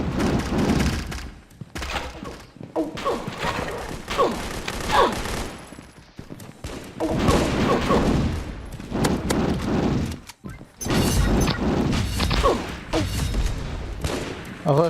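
Gunfire in the video game Pixel Gun 3D, bursts of shots and thuds coming in uneven clusters separated by short pauses, moderately loud throughout.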